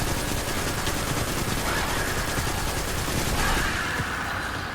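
Auto rifle fire in Destiny 2: a dense, continuous rattle of rapid shots running without pause for several seconds, loud and steady, with no voices.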